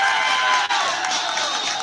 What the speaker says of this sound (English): And the crowd a little more excited than they usually would be